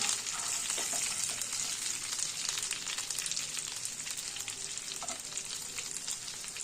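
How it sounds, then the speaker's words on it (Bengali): Cauliflower pieces frying in hot oil, a dense continuous sizzle with crackling pops and occasional stirring, close and steady throughout. "ফুলকপিগুলো এই দেখুন লাল লাল করে ভেজে নিয়েছি"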